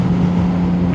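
A Jeep engine drones steadily nearby with a strong low hum, continuous and loud throughout, with some wind noise and no speech.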